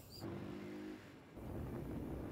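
A Yamaha Ray 50 Turbo scooter with about 3,000 km on it pulls away under steady throttle, its small engine buzzing loud and close, easing briefly before the revs climb again.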